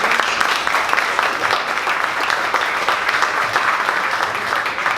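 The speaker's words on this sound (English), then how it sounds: "So let's give one more round of applause to Momentum Technologies." At a startup pitch gathering, an audience gives a round of applause for a presenting technology company, a loud, dense, continuous crowd clapping that holds steady throughout.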